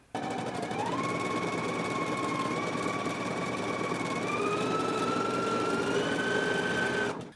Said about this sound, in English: I'm going to sew it, serge it, and then press it to one side